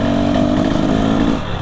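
A Husqvarna motorcycle on a test ride, its mid-pitched engine holding a steady, close drone that eases off slightly just before the end.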